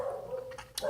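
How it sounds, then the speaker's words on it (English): Pet dogs barking in the background of a home, a brief bark and yip heard faintly at a distance, short and quiet. "Sorry for the dogs and cuckoo clocks or whatever else that's going on in the background"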